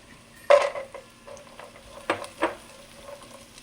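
Cashew nuts frying and being stirred in a hot pan while chicken fried rice is cooked, giving a sizzling background with a few sharp scraping stirs and utensil clinks, close and moderately loud.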